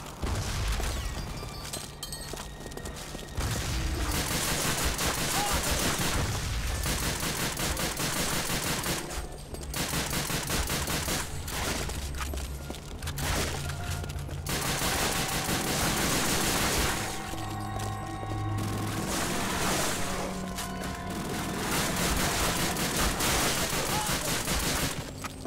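Heavy bursts of machine-gun and rifle fire from Call of Duty: Finest Hour's Western Front battle at Remagen, loud and continuous with brief pauses and occasional booms.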